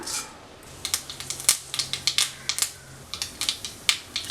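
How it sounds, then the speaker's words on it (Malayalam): Half a teaspoon of mustard seeds crackle in hot oil for a ridge gourd pachadi. Sharp, rapid pops burst close by in an irregular string over a soft background hiss, with no speech. "കടുക് പൊട്ടി വന്നിട്ടുണ്ട്"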